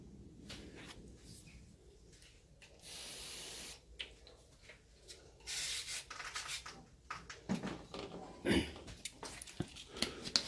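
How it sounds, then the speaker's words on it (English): Clear coat on a car panel is wet-sanded by hand with 800 grit wet-and-dry sandpaper to remove runs, giving quiet, intermittent rubbing strokes with a couple of longer hissing passes and soft handling noises. "I'm going to use a bit of 800 grit, wet and dry, and I'm going to really gently rub this back just here"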